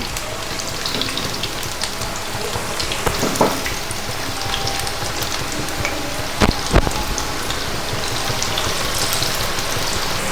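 Rava maida bonda deep-frying in hot oil gives a dense, steady sizzling hiss throughout, close and fairly loud, with a few brief knocks near the middle and no talking.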